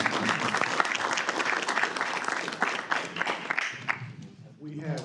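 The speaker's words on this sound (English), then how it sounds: "Let's give all three candidates a round of applause." At a candidate forum, an audience gives a round of applause for three candidates, dense and steady at first before thinning out toward the end, with some voices mixed in.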